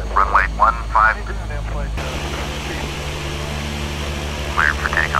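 Small propeller aircraft at the runway for takeoff, its engine a steady droning hum with strong low harmonics, partly under radio-style speech at the start and end.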